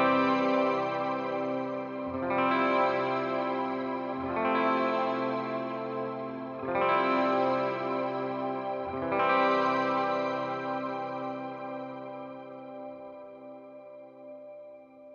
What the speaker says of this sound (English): And here is the Mr. Black Eterna.